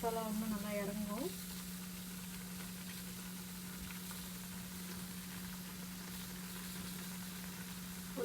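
Sautéed brinjal cooks in boiling masala for brinjal thokku, a steady close sizzle and bubble with a constant low hum underneath. A brief rattle of stirring comes at the start.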